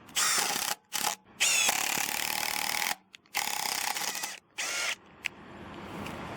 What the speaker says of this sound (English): So we got some standard 2-inch construction screws. This is on high mode. Here we go.